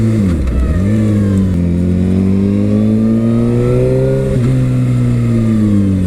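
Suzuki GSXR 750 sport bike engine revving close by, a loud continuous mid-pitched roar that dips low at the start, then rises and holds with a small blip of throttle near the end.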